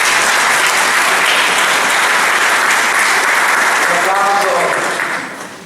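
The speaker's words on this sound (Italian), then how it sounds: "anzi un applauso." Loud, sustained applause from the audience at a public lecture on Veneto history in Este, dense clapping that fills the hall, with a voice emerging near the end as it tapers off.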